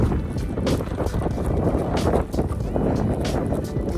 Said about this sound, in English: Fighting this headwind.